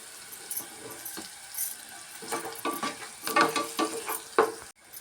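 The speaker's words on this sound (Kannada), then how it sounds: "ಜೀರಿಗೆ ಮೆಣಸು ಕುಟ್ಟಿ ಇಟ್ಕೊಂಡಿದ್ವಲ್ಲ ಅದನ್ನು ಸೇರಿಸ್ಕೊಳ್ಳೋಣ ಒಂದು ಸತಿ ಈ ಥರ ಚೆನ್ನಾಗಿ ಫ್ರೈ ಮಾಡ್ಕೊಳ್ಳೋಣ" Crushed cumin and pepper frying in a pan for tamarind rasam, with crackling sizzle, scattered clinks and scrapes of stirring that grow busier midway, then end abruptly.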